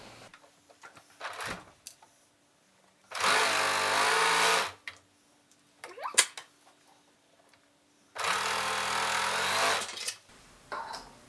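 Sewing machine stitching the underarm sleeve seam of a tropical shirt, two separate steady runs of about two and three seconds with quiet handling clicks and rustles between them.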